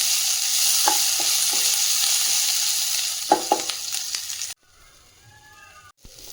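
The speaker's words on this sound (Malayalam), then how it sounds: "സവാള ഉള്ളി ഇങ്ങനെ നല്ലതുപോലെ ഇടയ്ക്കൊന്ന് ഇളക്കി കൊടുക്കുന്നതുകൂടെ വേണം" Sliced onions sizzle steadily in a pan for a mushroom curry, with a few scraping stirs of a spoon, before the frying noise cuts away to near quiet.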